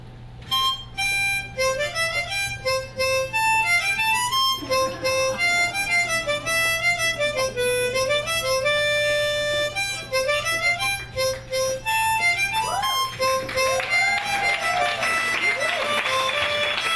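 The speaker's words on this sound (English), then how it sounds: "every time I play the harmonica and people applaud" Bach's Minuet in G played on a harmonica at a women's success summit in Miami: clear, reedy sustained notes run in a steady, lilting melody, close and alone, with a soft low hum beneath.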